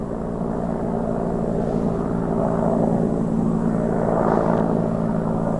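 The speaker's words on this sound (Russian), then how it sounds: "Вертолет. Там обычно пролетает." A helicopter flies over a rural hunting area, producing a steady mechanical drone with a throbbing rotor tone. The sound stays distant and swells slightly as it passes.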